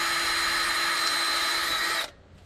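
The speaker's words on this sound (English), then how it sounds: "I am just going to drill a small hole and see if I can get it out with a pick." A power drill bores a small hole into an old truck transmission seal, a steady high whine running loud and close for about two seconds before stopping abruptly.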